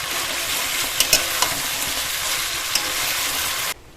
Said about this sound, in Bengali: মটনটাও ঠিক একইভাবে কষিয়ে রান্না করব।